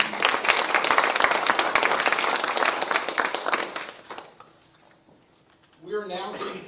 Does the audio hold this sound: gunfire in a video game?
no